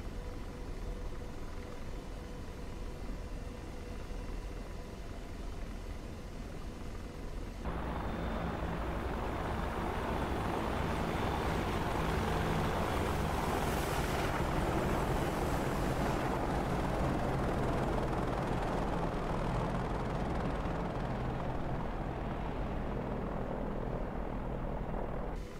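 An AH-64D Apache helicopter flying in DCS, a steady droning rotor and turbine hum that thickens and grows louder after several seconds, then holds constant with no talk.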